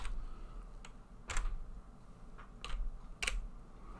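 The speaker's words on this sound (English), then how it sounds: "Alright, gonna have to get the keyboard over here then." Typing on a computer keyboard, a few sparse, faint clicks and key taps spaced irregularly in a quiet room.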